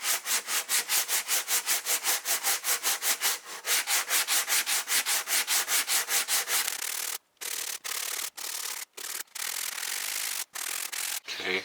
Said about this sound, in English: now I've gone over it with the 80 grit, and then I've done a quick pass with some 220 to get rid of some of the deeper scratches